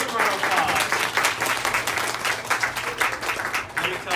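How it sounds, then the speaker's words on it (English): An audience applauds a singing group, dense continuous clapping from a crowd in a hall, steady and moderately loud throughout. "give a round of applause"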